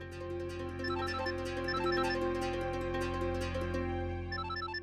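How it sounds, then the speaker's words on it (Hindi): A phone ringtone chirps a repeating electronic melody late at night, steady and fairly loud throughout, with no one speaking over it. "इतना लेट किसका फोन आ रहा?"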